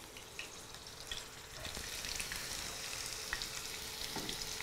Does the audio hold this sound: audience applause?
no